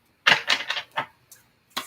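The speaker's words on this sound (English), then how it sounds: "Last shuffle." A deck of cards gets a quick final shuffle, heard as a few rapid, crisp riffling bursts close by, then a short pause and one more flick.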